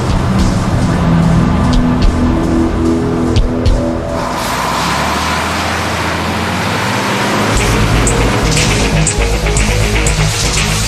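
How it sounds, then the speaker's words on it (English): A smoldering lorry rolls into the Mont Blanc tunnel, its heavy engine rumbling low and steady alongside a broad wash of vehicle noise, with a deep swell in the middle before settling. "A smoldering lorry enters the Mont Blanc tunnel."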